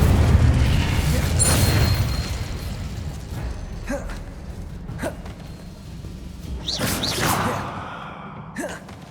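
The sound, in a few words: spell casting explosions in video game Hogwarts Legacy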